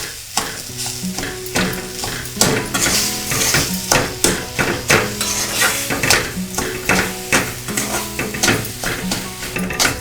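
Semolina and mashed banana stirred and roasted in a pan for sheera, with a spoon scraping and knocking the pan in repeated strokes over a soft steady sizzle, close up.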